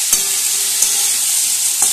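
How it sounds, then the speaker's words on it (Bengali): Potatoes stirred into spice paste frying in oil in a pan, giving a steady close sizzle with a few louder scraping stir strokes; no voices. "তেল ছাড়তে শুরু করেছে। এই পর্যায়ে আমি আলুটা অ্যাড করে দিলাম।"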